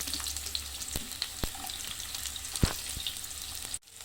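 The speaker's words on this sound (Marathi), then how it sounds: "कढई ठेवलेली आहे, त्यात आपल्याला हे कांदा भाजून घ्यायचा आहे" Chopped onion dry-roasting in a kadhai for a paneer bhaji masala, giving a steady close sizzle with a few sharp clicks and scrapes of stirring; no one talks.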